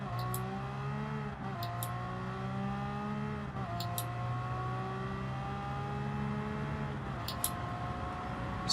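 Ferrari F50 V12 engine in Gran Turismo at Monza, downshifting hard under braking, with a sustained high engine note that drops in several sharp steps between gears and then whines steadily, with no talking.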